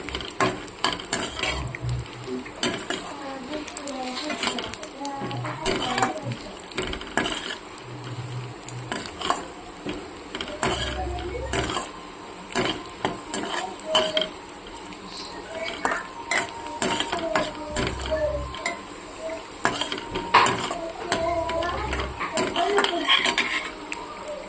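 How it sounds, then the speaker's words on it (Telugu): Chopped cashews, almonds and raisins fry in ghee for semiya payasam, with a steady scrape and clatter of a spoon stirring against the pan over a soft sizzle throughout, no voices. "నెయ్యి వేసుకున్నాక ఇందులోని ఒక అరకప్పు జీడిపప్పు, బాదం, కిస్మిస్ని చిన్న ముక్కలుగా కట్ చేసుకొని గోల్డెన్ షేడ్ కలర్లోకి వచ్చేంత వరకు కొంచెం ఫ్రై చేసుకోండి"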